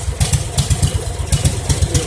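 A large biogas-fuelled generator engine runs steadily close by, a loud low chugging with a regular clattering pulse and no voices over it.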